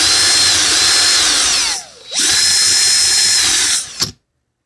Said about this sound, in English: my drill's on slow